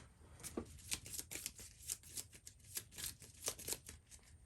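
A deck of cards from the board game Forest Shuffle is riffled and shuffled by hand: a soft, quick run of papery flicks and taps lasting several seconds, close and quiet, with no talk.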